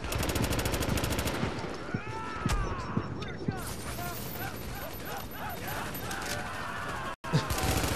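Rapid rifle gunfire in The Division's Dark Zone, loud dense bursts running almost continuously with a brief break near the end, as someone talks over it.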